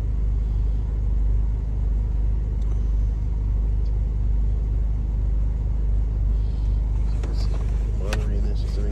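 Steady low rumbling idle of an Audi A3 engine with a fuel pressure regulator fault, constant throughout with a few faint clicks and knocks toward the end; someone speaks over it.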